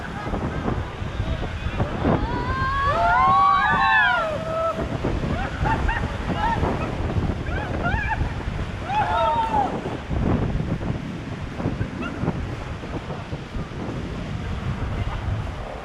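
Roaring river rapids rush around a raft in Rishikesh, a steady broad wash of water and wind with voices whooping and calling out over it throughout.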